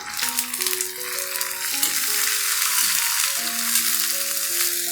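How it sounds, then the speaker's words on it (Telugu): Chopped onion and chillies sizzle in hot oil in a pan for ivy gourd fry, a steady crackling hiss with faint rattles, and a melodic tone runs underneath. "ఉల్లిపాయలు కూడా ఇలా ఆయిల్లో బాగా మెత్తబడిపోయి బాగా వేగిపోవాలండి"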